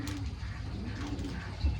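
A ring-necked dove coos low and soft in a repeating, rounded call, close by, over a steady background murmur of an outdoor aviary.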